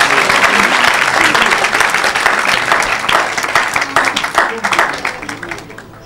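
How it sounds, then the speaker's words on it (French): An audience at a religious evangelism gathering applauds loudly and steadily, with dense clapping that slowly fades toward the end and voices mixed into the noise. "Put your hands together for the Lord."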